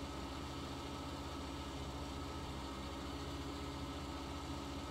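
A 400 hp tractor engine in Farming Simulator 19 hauls a heavy trailer with a steady, dense low drone that holds an even level throughout, heard alone without talk.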